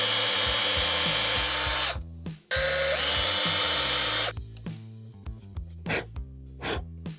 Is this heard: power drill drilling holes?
yes